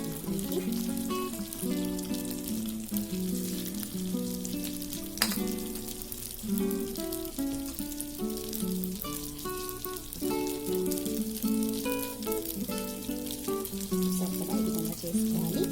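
Breakfast batter frying in a pan, a steady soft sizzle with faint crackles and occasional light clinks, quiet and close with no voices.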